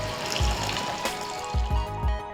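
Water is poured steadily into a pan of sautéed drumstick curry base, a continuous close-up splashing trickle with a few heavier glugs.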